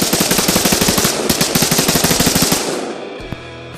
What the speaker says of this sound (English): With practice, it is actually quite easy to keep this weapon on target at a full auto rate of fire.